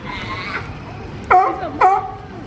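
A California sea lion at a zoo gives two loud, hoarse barks in close succession over outdoor background noise, and a voice is heard just before them.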